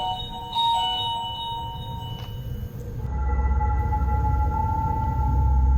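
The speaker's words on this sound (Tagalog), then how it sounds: "Ano, sino kayo nagdodoorbell dyan na ano?" Electronic doorbell chimes ringing a few times at a closed building during an overnight stay on Mount Makiling, with clear tonal dings over a low rumble of background noise, no voices.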